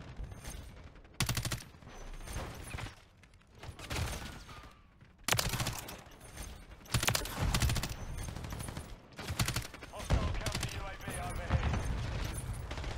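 Call of Duty MW3 hardcore match with loud bursts of rifle fire broken by short pauses, the shots sharp and close over game sounds, with a voice talking in places.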